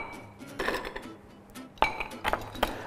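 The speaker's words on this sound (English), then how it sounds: "So let's fill it up with ice." Ice cubes drop into a glass for a vodka drink in a kitchen, giving a few separate bright clinks and rattles spread over a few seconds, quiet and close, with no talking.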